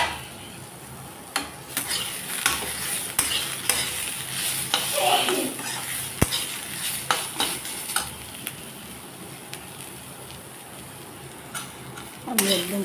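Food sizzles steadily in a frying pan while a utensil stirs and scrapes against the metal, giving frequent irregular clinks over the constant hiss; a voice briefly talks underneath.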